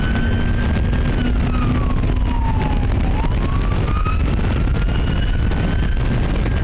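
A police car siren wails continuously over road traffic noise, its pitch slowly falling and rising in long sweeps, loud and close.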